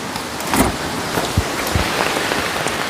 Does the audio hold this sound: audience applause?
no